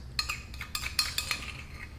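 Cancoillotte cheese being stirred into a mushroom and bacon cassolette in a pan, with a series of close, light metallic clinks and scrapes of a utensil against the pan at irregular intervals.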